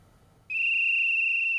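A circus ringmaster blows a whistle on opening night of Circus Sarasota's 2018 show, one loud, steady, piercing tone held for over a second after faint background murmur.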